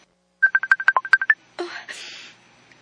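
Telephone keypad tones in a radio drama, a quick run of about a dozen short beeps followed by a brief burst of noisy line sound, close and alone.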